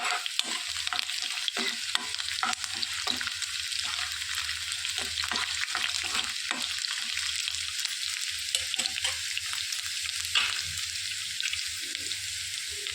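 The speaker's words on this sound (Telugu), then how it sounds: "ఒక హాఫ్ టేబుల్ స్పూను మినప్పప్పు ఒక హాఫ్ టేబుల్ స్పూను పచ్చనప్పప్పు వేసుకొని మంచిగా వేయించుకోవాలి" Urad dal and chana dal fried in a pan, a bright continuous sizzle with rapid spoon scrapes and stirring strokes, close and steady throughout.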